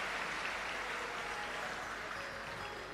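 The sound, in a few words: audience applause welcoming host families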